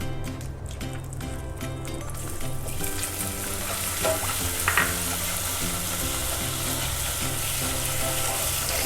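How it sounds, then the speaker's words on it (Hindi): Butter goes into caramelizing sugar in a pan on low heat for an eggless chocolate pudding, setting off a loud, continuous close sizzle with faint stirring scrapes throughout and no talking. "अब इस स्टेज पे हम इस पे बटर डाल देंगे"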